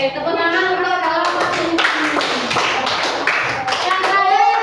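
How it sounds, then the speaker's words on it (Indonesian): Children in a classroom break into applause, a dense burst of clapping that runs throughout, loud and close, with some voices mixed in. "Oke, tepuk tangan untuk kalau"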